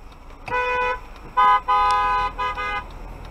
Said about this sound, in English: This intersection never fails to disappoint for honk of chorus of honks.